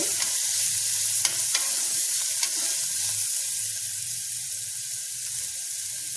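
Ingredients for foxtail millet pulao fry together in a pan with a steady, soft sizzle. Occasional scrapes and knocks from stirring come through at close range, and no one speaks.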